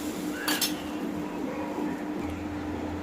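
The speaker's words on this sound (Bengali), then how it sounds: "ফুড কালার দেওয়ার পরে আমি এটাকে খুব ভালো করে মিক্স করে নিচ্ছি।" A spoon clinks briefly against a metal pot while stirring saffron food colour into Nobabi semai, a few light taps over a low steady hum.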